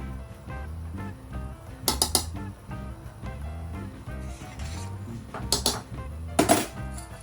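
A pepper mill grinds in short bursts of gritty ratcheting over a kitchen background of clinking and low hum, the crunching twists coming in a few clusters.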